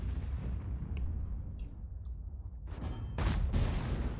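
A tank shell fires in World of Tanks on an E75, a heavy low rumble of engine and battle noise giving way to a sharp, loud cannon blast near the end, followed by a second burst.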